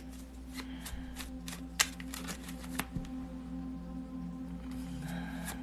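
Tarot cards being shuffled for a reading: soft intermittent riffling and tapping of cards, with a few sharper snaps, close up over a low steady hum, no one speaking.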